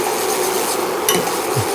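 A whisk beats a pumpkin gummy mixture in a bowl, a loud continuous close scraping and churning with faint clinks against the sides.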